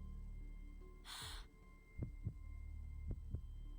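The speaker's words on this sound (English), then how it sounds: "Her heartbeat quickens in her chest." Heartbeat effect in the video game Reverse: 1999, two paired low thumps repeating twice at a quickening pace after a brief breathy gasp-like whoosh, over a steady low hum.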